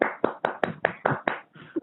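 A single person clapping hands in a steady rhythm, about eight crisp, close claps evenly spaced, with no talk.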